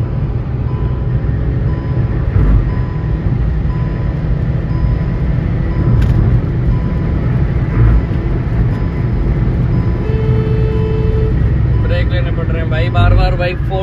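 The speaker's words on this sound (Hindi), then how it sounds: "भाई फोर्थ गियर तक ही चल रही है गाड़ी" Hyundai i10 Nios driving fast in fourth gear on a road, a steady loud engine and road roar with wind noise, while someone talks throughout.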